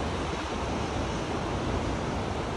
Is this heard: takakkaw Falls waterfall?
yes